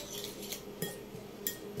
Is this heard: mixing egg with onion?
yes